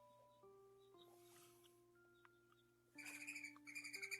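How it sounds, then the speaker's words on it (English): Bird chirps in a Doki Doki Literature Club mod game, a burst of bright, rapid tweets over steady game music, growing louder and more repetitive toward the end. "That bird is back in my room."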